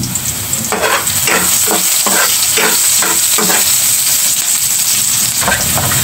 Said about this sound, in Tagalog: I have here fried bawang.